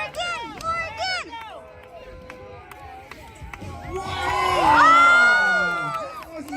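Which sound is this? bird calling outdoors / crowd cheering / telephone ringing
crowd cheering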